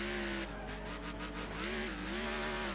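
Racing car engine in the video game Next Car Game, a steady droning whine that rises and falls in pitch with shifting revs, with some tire scrub as the damaged car gets hard to control, loud and continuous with no talk.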